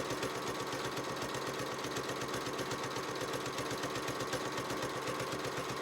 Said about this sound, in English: Now I put the foot down and I'm going to sew and then back stitch.